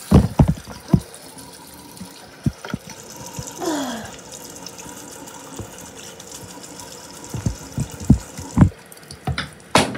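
Tap water runs steadily while someone washes off face makeup at a sink, with close splashes and clicking knocks scattered throughout.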